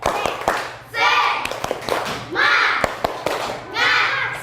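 A primary school class claps in a quick rhythmic spirit-clap pattern, sharp hand claps in short bursts, with children's voices chanting between the clapping patterns.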